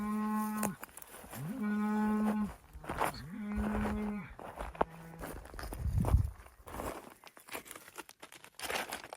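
Cows moo repeatedly in long, loud, droning calls near a hillside ghost town by an old gold mine, with footsteps crunching between the calls.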